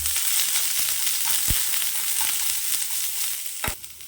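Onions frying in a pan for a Tamil brinjal gravy, a continuous hissing sizzle broken by a couple of sharp spatula scrapes against the pan, close and without speech.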